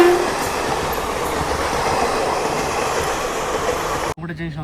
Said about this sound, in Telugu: WF4 locomotive బెజవాడది.